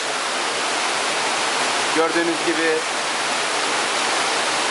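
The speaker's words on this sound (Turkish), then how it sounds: "yaz ayının tam ortasına da olmamıza rağmen dere köyünde bulunan bu şelale yaratıcının bir eseri olmak üzere" A waterfall at Dereköy near Anamur roars as a constant, dense rush of falling water, with a person briefly speaking over it midway.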